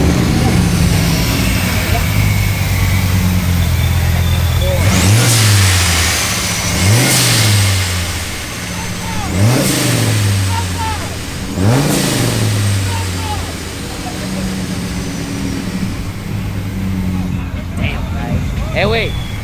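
A supercharged Dodge SRT10 pickup with a six-speed manual is revved repeatedly at a truck meet burnout pit: four or five sharp rising-and-falling blips over a loud, close idle, with people talking around it.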